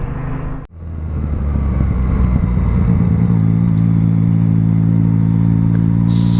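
Yamaha MT-09 motorcycle fitted with an Akrapovic exhaust, a loud, close engine rumble that briefly drops out then settles into a steady running drone, with no voices.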